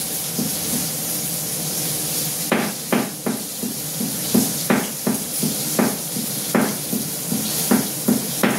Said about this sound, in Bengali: দেখো নোড়ার সাহায্যে আমি আদাটাকে কিন্তু থেতো করে নিচ্ছি